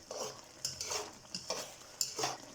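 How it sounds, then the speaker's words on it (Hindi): A spoon stirs dried plum chutney in a cooking pot, a close series of scraping, clinking strokes about every half second, with a faint sizzle underneath and no talk. "इसी तरह इसे हिला के आप लोगों ने अच्छी तरीके से पका लेनी है।"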